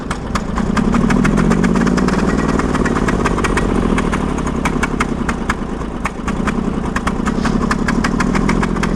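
A Briggs & Stratton 20 HP V-twin engine on a Sears loader runs steadily and loud in close range, a rough continuous throb with rapid uneven firing pulses throughout.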